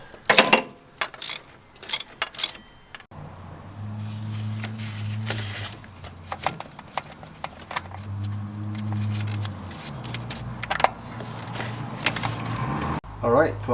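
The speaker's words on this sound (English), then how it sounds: "So here's my ratchet, feeding it with a super long extension and a swivel," A ratchet on a very long extension and swivel works loose a 12 mm bolt during a starter replacement on a Honda S2000, with rapid clicking bursts and mechanical rattles up close.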